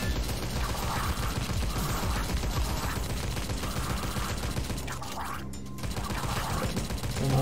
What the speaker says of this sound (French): On entend Tesla qui recharge pour éviter de faire des tirs frénétiques.